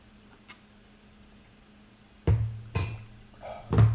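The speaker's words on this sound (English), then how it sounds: "I made it with ghee, so you gotta stir it up a little bit." A spoon clinks against a mug while stirring butter coffee made with ghee: a faint tap, then three louder, sharp clinks close by, with no talking.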